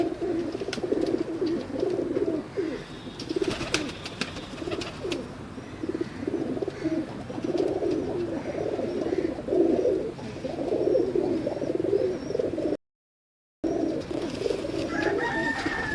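Teddy pigeons coo steadily in a loft, a continuous low, throaty murmur of overlapping calls from several birds, fairly close and unbroken except for one brief gap of silence near the end.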